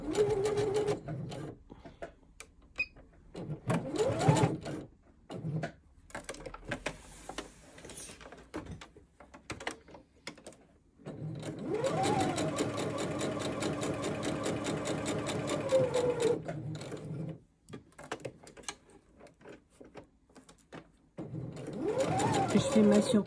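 A sewing machine topstitches a jacket in bursts, running steadily for several seconds at a time with pauses between runs, close up and fairly loud, with a person talking during the gaps.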